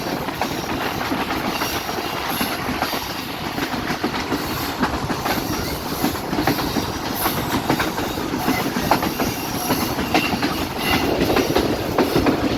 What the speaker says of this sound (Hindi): आप देख सकते हैं ट्रेन फुल कर्व में है।